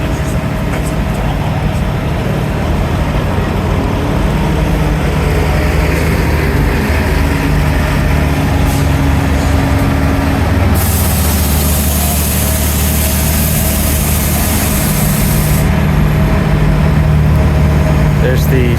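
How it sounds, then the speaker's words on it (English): City buses pull into a downtown transit center in the afternoon, a continuous heavy diesel rumble and idling drone with a brief hiss partway through, under occasional talk. "Have a number of buses arriving."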